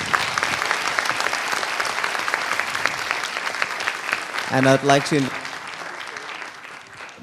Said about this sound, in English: So please give a big round of applause for Professor Maskins.